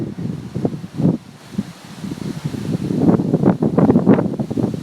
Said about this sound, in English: It's staying pretty windy, but it's not raining yet.